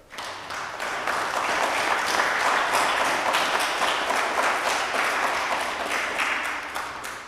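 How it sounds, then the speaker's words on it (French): A crowd applauds steadily for several seconds, dense clapping filling the room at a constant loud level before trailing off slightly at the end. "On peut vous applaudir."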